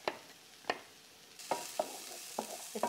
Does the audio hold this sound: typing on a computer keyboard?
no